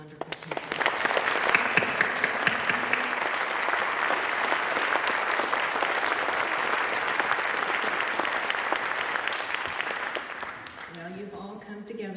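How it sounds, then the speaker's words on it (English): Sustained loud applause from an audience at a dedication ceremony, dense steady clapping lasting about ten seconds before thinning out, with a voice starting to speak at the very end. "Please join me in applause for these wonderful people."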